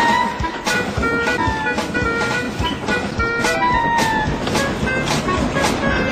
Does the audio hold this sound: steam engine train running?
yes